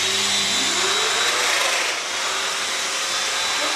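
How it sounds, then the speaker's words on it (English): A Festool Domino joiner cuts a slightly larger mortise in wood, a close, loud broadband motor whir with a high tone, steady for nearly four seconds with a brief dip near the middle. "Now I set one increment further and cut a hole which is slightly larger."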